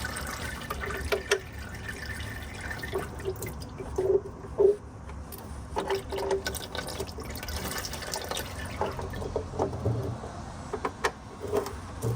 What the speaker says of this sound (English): we're gonna let that drip for a minute